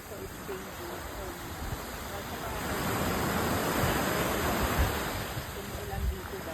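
Big ocean waves surge and wash ashore on a beach in Mindanao, Philippines, a broad roaring swell that builds and recedes, loud and continuous, with faint voices in the background.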